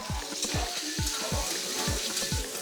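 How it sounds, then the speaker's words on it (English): Butter foams and sizzles in a hot pan while being spooned over sea bass, a steady crackling hiss broken by a regular series of soft low thumps from the basting. "baste that foaming butter over the fish"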